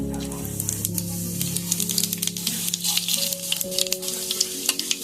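Panch phoron, the Bengali five-spice mix, sizzles and crackles in hot oil with a steady close spitting and occasional stirring. A low tonal hum runs underneath.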